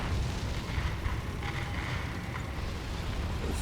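Artillery fire in the tank combat game War Thunder, with a Japanese Type 1 Ho-Ni I tank destroyer in play. Continuous low rumbling booms roll under a steady noisy battlefield bed, with no distinct close blasts.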